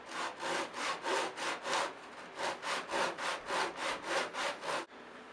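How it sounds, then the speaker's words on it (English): A hand saw cuts a Les Paul guitar neck tenon clamped to a bench, giving a close, steady series of about a dozen rhythmic rasping strokes that stop abruptly near the end. "And I can make the cut right here."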